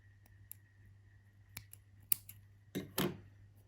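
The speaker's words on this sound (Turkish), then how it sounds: "Ve şimdi dibinden kesiyorum." Scissors snip thread at the base of a needle-lace edging on a plain black headscarf: a few quiet, sharp clicks spread out over a steady low hum, ending in a louder double snip.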